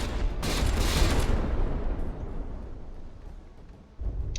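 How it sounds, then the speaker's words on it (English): Ship guns firing in a From the Depths naval battle tournament: a dense, rumbling fusillade of overlapping blasts that swells, then tapers off into a sustained roar with a fresh burst near the end. "that was a pretty lucky shot to get that gun damage in"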